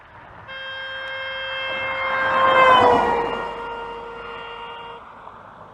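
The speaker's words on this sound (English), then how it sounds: "as I approach the stationary observer, I'm going to start sounding the horn" A steady car horn blares as the vehicle approaches, swelling louder, then its pitch drops as it passes and fades away.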